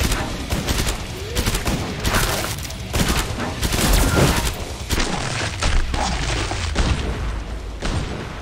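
Gunfire in the shooter game Killing Floor 2, dense rapid volleys of loud shots and booms in quick bursts, with little pause between them.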